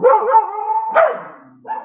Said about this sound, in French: ça c'est les border collies, il n'y a pas meilleur chien de garde que le border